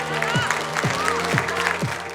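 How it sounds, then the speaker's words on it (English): An audience at a school programme event gives a round of applause, clapping heard under music with a repeating beat and a sustained backing tone. "We're going to give you guys a massive round of applause"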